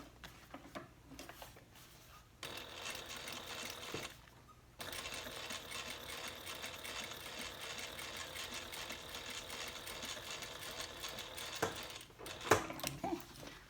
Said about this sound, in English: we've completed sewing the band together